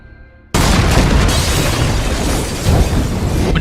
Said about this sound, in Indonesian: bom itu pun meledak.